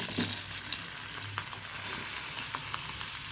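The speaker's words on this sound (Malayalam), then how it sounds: "വെളിച്ചെണ്ണയിലാണ് വറുത്തെടുക്കുന്നത്." Cardamom, cinnamon, garlic and shallots fry in hot coconut oil in an iron wok, giving a steady bubbling sizzle with scattered light pops and soft stirring sounds and no voices.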